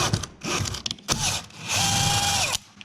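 A power drill bores through a wooden 2x6 rafter, with short whirring bursts and stops, then a longer sustained whine as the bit pulls through, all close and alone.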